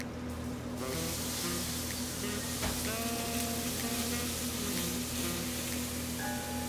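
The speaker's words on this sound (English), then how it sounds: "Now, he's going to brown the garlic." Garlic browns in a hot pan in a restaurant kitchen, a dense constant sizzle with a few clinks of utensils against the pan.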